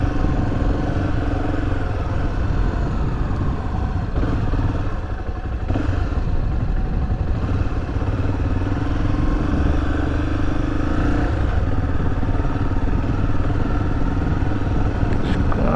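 A 2013 Honda XRE300 motorcycle engine drones steadily throughout, with a sustained mid-pitched hum and occasional clattering as the bike rides over rough, sandy ground.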